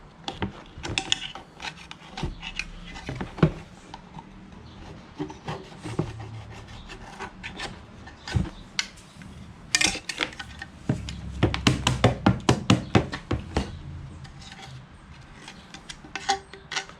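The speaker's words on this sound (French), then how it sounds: "on va commencer maintenant à gratter" Carbon deposits being scraped from a car engine's intake and EGR passages, a series of gritty rasping and rubbing strokes with scattered sharp metallic clicks, close and fairly quiet, growing denser toward the end with no talk.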